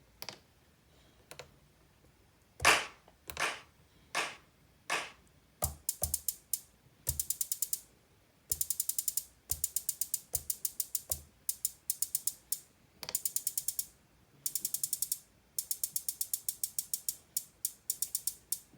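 Ratcheted repeated notes from an Akai Force sequencer: single hits at first, then rapid bursts of bright, evenly spaced repeats in quick stuttering groups, clear and with no talking.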